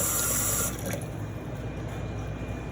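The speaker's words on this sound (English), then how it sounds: "so I'm just rinsing it off" Running tap water rinsing raw chicken pieces in a kitchen sink, a steady close splashing stream that softens after the first moment and keeps flowing, with no talk.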